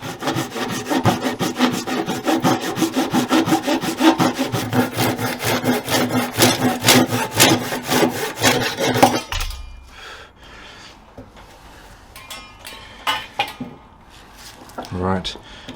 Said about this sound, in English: I will use a saw now.